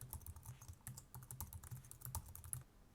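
Login credentials typed on a computer keyboard: quiet, quick, irregular key clicks in a continuous burst, close and alone with no voices.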